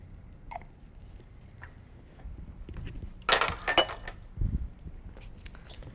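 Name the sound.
stirring balsamic vinegar and tamari soy sauce together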